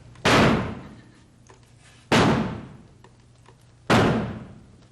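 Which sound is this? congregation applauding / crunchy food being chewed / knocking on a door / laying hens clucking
knocking on a door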